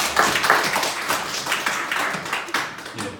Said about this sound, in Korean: 서로를 위해서 한번 박수하겠습니다